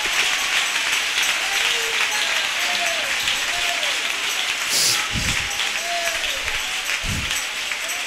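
A church congregation breaks into loud, continuous applause that holds steady throughout, with a few voices and shouts rising over the dense clapping.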